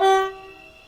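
A brief, loud toot from a Stepford Metro train horn in a railway video game, sounding a sharp harmonic blast that quickly fades over under a second.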